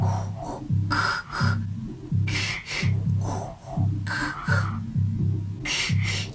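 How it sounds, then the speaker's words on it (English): Heavy rhythmic breathing, like air hissing through a spacesuit helmet, repeats in steady cycles over a pulsing low electronic beat. "this sound effect that sounds like breathing in your spacesuit"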